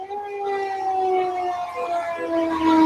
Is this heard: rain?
no